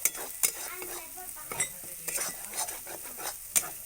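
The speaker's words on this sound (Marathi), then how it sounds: "चांगलं तेलावर मसाला हा भाजून घेतला" A spoon scrapes and clinks against a pan while turmeric masala roasts in oil over a village wood-fired stove for vada pav, giving quiet, irregular stirring strokes over a faint sizzle with no voices.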